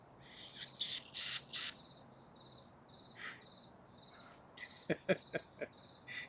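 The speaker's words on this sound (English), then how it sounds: "That's kind of strange they would put the cricket sound through there." Crickets chirp in short bursts: a few bright trills early on, then a quicker run of sharp chirps near the end, all faint against a quiet background.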